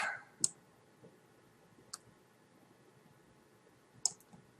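Mouse clicks while working in the 3DS Max modelling software, three sharp isolated clicks spaced a couple of seconds apart over quiet background.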